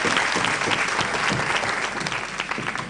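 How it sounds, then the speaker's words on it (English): A conference audience claps in sustained, dense applause, a loud steady roar of many hands filling a hall, no voices over it. "another round of applause for Dr. Chin and the Programs Committee"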